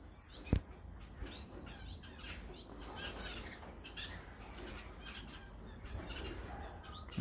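Young finches, including yellow-billed longtails and masked finches, chirp in a holding aviary in a bird room, giving scattered faint tweets and calls over a quiet background hiss.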